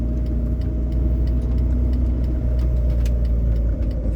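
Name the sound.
Peugeot 205 CTI car engine while driving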